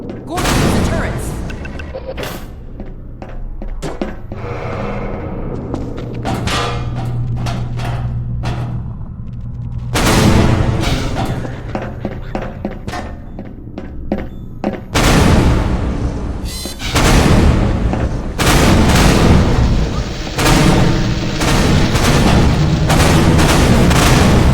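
Automated turret gunfire in Half-Life 2 during a combat sequence, loud sustained bursts of rapid shots and booming impacts that break off and resume in clusters, with voices speaking between volleys.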